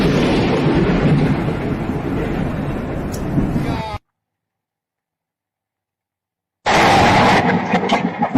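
Loud, rumbling thunder from a powerful lightning strike roars for several seconds, breaks off into silence, then returns with crackling and wind noise.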